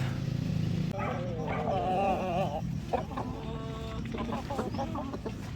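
White leghorn chickens on a farm, a close series of clucks and warbling calls, with a dog barking now and then amid the flock's chatter.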